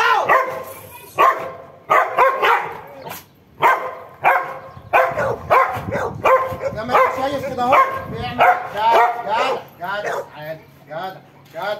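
A farm guard dog barks, yips and whimpers in loud, uneven bursts close by, with someone speaking between and over the outbursts.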